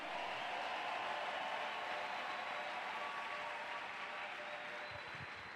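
Church congregation applauding steadily, a dense wash of clapping that stays loud and even for several seconds with no voices over it.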